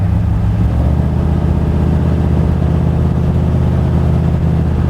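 A V8 car engine fitted with an Edelbrock VRS 4150 carburetor, running slightly rich, idles close and loud with a steady, even rumble that picks up smoothly, with no voices.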